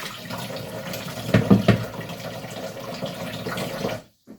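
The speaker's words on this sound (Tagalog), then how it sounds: "Hugas pa tayo ng plato." Tap water runs steadily into a kitchen sink during dishwashing, a continuous close hiss and splash with a few louder clatters midway, then cutting off abruptly near the end.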